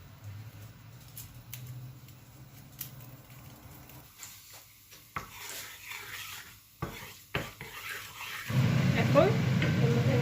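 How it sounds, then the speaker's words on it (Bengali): Torn dried chili goes into hot oil in a home kitchen, and after some quieter clatter and handling, a loud, steady sizzle bursts up and holds for the last couple of seconds. "তেলটা গরম হয়ে আসছে, আমি এখন একটা শুকনো মরিচ দিয়ে দিব ছিঁড়ে।"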